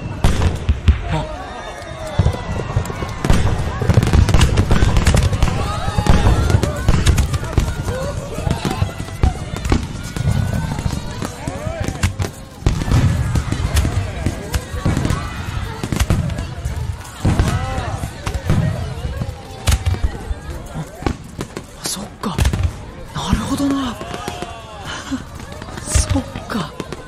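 Anime fireworks display heard as a dense run of deep booms and crackling bursts, loud and continuous, with scattered voices talking over the explosions.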